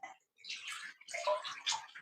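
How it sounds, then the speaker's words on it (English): Soft water running into a bath, a close, gentle splashing and gurgling flow in short bursts with a brief pause near the start. "I didn't know that water feel and sound this good"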